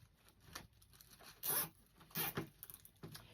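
Plastic zip ties are pulled tight on a grapevine wreath, giving quick ratcheting zips in a few short bursts, with two louder strokes in the middle and softer rustling around them, close to the microphone.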